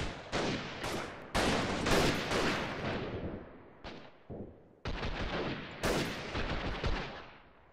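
Sniper rifle fire in the video game Freeman Guerrilla Warfare: a run of sharp, loud shots and booming reports, several overlapping, each trailing off in a short echoing decay, with no talking.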